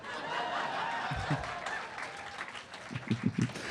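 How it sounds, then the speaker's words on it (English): A stand-up comedy audience applauds in a steady wash of clapping that thins out, giving way to a few scattered bursts of laughter and chuckles near the end. "You can clap for that."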